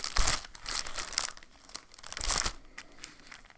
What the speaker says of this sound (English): no, I'm sorry about the packaging noise.